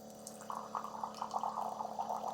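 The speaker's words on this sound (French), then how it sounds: "Ok, alors si je me sers de l'eau, hop," Water poured from a Jimmy R9 water purifier trickles and splashes into a glass in a short steady stream over a faint background hum.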